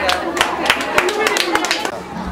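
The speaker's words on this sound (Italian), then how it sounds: "L'applauso!" Guests clap at the opening of the Gallo d'Oro restaurant under its new young management. The claps are loose, uneven and fairly close, mixed with background chatter and talking.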